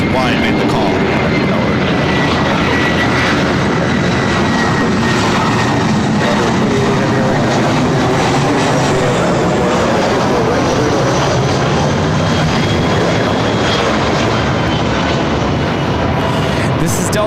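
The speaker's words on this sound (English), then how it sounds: "Delta Airlines 948 coming in from Dallas Fort Worth on the A319" A Delta Air Lines Airbus A319 arrives at LAX from Dallas Fort Worth with a loud, sustained jet roar and faint whining tones, while a voice talks over it.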